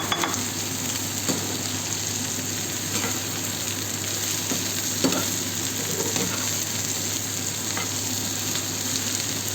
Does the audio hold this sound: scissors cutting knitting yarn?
no